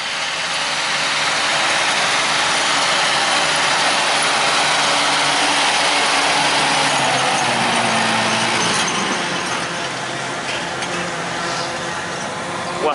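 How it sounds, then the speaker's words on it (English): Tractor pulling a Valkyra 6550 silage trailer away to unload during first-cut silage on a farm, a steady engine rumble mixed with broad hissing noise, fairly loud and continuous, easing slightly toward the end. "So here's the Valkyra 6550 away to unload here."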